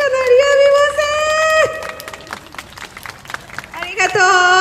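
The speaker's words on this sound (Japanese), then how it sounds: "うわ拍手が鳴りやみません" Street crowd applause during an outdoor live music performance by a bridge in Hakata, Fukuoka, a rattle of many hands clapping at moderate distance while singing voices and chatter carry over it.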